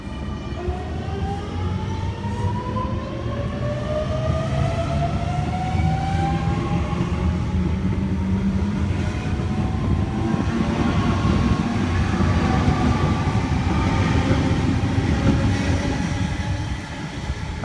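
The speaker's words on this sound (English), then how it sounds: "we have a Liverpool via Bankstown service departing platform number 2" A Sydney passenger train, a Liverpool via Bankstown service, departs platform 2 at St Peters station, its motors whining upward in pitch as it rumbles and rattles away steadily, fairly close and with no talk.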